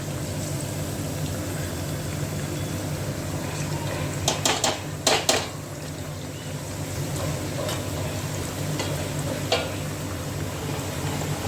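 Potato wafers fry in oil over a full flame, a steady dense bubbling sizzle lasting throughout, with a few sharper clinks and stirring knocks near the middle.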